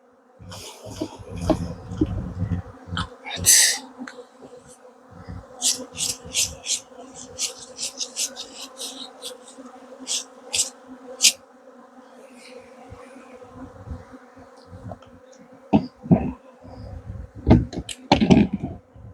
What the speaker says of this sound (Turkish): arıların çoğunluğu katta şu an